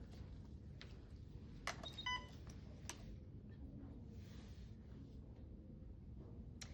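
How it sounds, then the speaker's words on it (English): A few short electronic beeps sound from an IV pump, with a brief cluster of tones, over a low steady hum. "And it'll beep at you."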